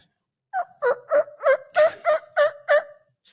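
A person mimics a turkey's gobble with a fast series of eight or so rattling, throaty yelps, loud and close, followed by silence.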